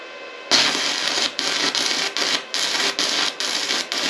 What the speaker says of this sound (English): It makes caster noises.